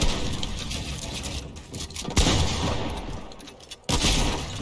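Gunfire in a Fortnite Creative match, loud and close, with dense crackling bursts that drop out briefly around the second and fourth seconds and then resume.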